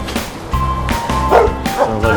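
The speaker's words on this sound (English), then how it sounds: "Sounds like the dogs want to say hello to some of the neighbors." Several dogs bark and yip repeatedly nearby, loud, overlapping rapid woofs with a few whiny notes.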